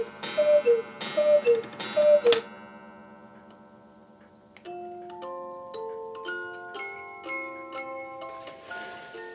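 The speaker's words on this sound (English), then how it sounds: "The latest additions to his collection, 2 gigantic hand-carved Bavarian cuckoo clocks, hang in his bedroom. This one has the best music box I've heard in a long time." A large hand-carved Bavarian cuckoo clock in a bedroom plays a bright music-box tune. Several chiming notes ring out first, then a steady melody of plucked tones carries on over a soft, regular tick.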